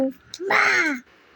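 A young child lets out a drawn-out, moaning vocal sound imitating a cow's moo, preceded by a quick short utterance.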